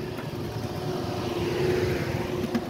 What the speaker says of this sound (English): So that car had a donut tire on.